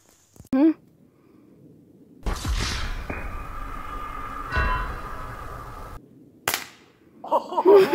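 Pellet rifle fired in the woods: a sharp crack near the start and another near the end, with a long stretch of rustling movement and excited voices in between.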